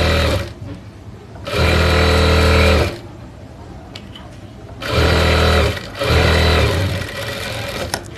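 Sewing machine stitching a fabric lining onto a sleeve, running in two loud sustained bursts of steady motor whirring with quiet pauses between them.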